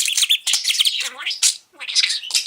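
A budgie mimics a chickadee call in rapid high chirps, tweets and warbles, close and fairly loud, broken by one brief pause.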